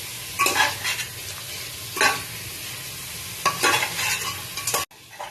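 Mutton for pulao fries with ginger-garlic paste in almost no oil, a close sizzle broken by several loud bursts of spoon scraping and stirring before it cuts off abruptly.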